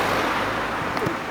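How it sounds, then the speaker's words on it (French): Cars pass along a busy street in Fontaines-sur-Saône, making a steady, close wash of traffic noise with no break over a brief moment. "Désolé pour le bruit avec les voitures,"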